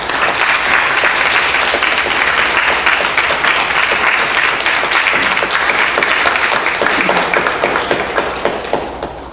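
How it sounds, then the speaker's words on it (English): Sustained applause from a large audience at an environmental summit in Atlanta, Georgia, dense steady clapping filling the room for about nine seconds before starting to thin out at the end. "You should give yourselves a round of applause."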